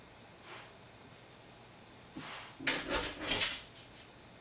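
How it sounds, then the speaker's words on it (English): A dog whimpers and snuffles to be let out, a faint whine early on, then a cluster of louder, close, broken whines and huffs near the end. "Sorry, my dog wants out."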